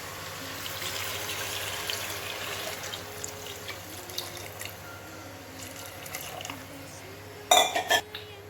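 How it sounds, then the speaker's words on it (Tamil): Steady stream of water poured into a cooking pot while making mutton biryani at home, a continuous running wash that eases off, then a few sharp metallic clinks of utensils near the end; no talking. "நம்ம தண்ணி ஊற்றிடலாம்."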